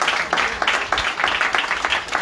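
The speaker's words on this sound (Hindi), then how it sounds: "ताली बजाए।" A roadside crowd at an outdoor sermon in Ludhiana claps in short, uneven bursts, the rhythm loose and moderately loud, with a faint voice mixed in.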